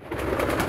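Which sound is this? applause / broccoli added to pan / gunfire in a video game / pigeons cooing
pigeons cooing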